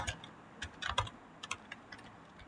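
Faint, close clicks of someone typing on a computer keyboard, an irregular scatter of light keystrokes ending with a Shift+Enter press, with no talk.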